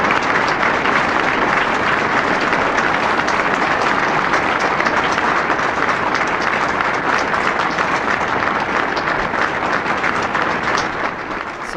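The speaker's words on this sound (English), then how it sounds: "Applause is very loud." Loud, dense applause fills the room at a Medal of Honor ceremony, a continuous roar of many hands clapping at once, unbroken for the whole stretch and fading slightly at the very end.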